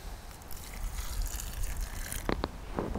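Ordinary drinking water is poured from a plastic jug in small portions outdoors by the Moscow River, a splashing gush over a noisy background with a couple of short distinct spurts near the end.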